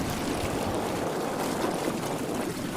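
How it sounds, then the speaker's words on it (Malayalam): Boat moving at speed along the water past an island, a steady broadband wash of engine and water noise, constant and fairly close, with no voices. "നമ്മളവിടെ നിന്നപ്പോൾ കണ്ട ബോട്ട് പോകുന്നതാണ് ഇപ്പോൾ നമ്മൾ കാണുന്നത്"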